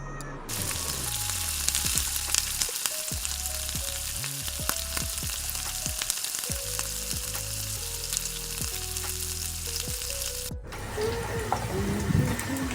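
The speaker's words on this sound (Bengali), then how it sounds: "এবার কড়াতে আলু দিয়ে দিচ্ছি তারপরে দিয়ে দিলাম পেঁপে" Potatoes and papaya hit hot oil in a wok seasoned with bay leaf, dried red chilli and panch phoron, sizzling steadily and loudly with a few sharp clinks of a spoon against the pan.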